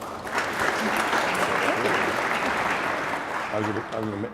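A colloquium audience claps in a dense, steady round of applause at moderate loudness, with a voice breaking in briefly near the end.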